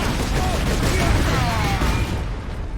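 Dense, continuous gunfire and bursting blasts from the Warhammer 40k shooter Space Marine fill the scene at a steady loud level, a sustained barrage with no clear gaps.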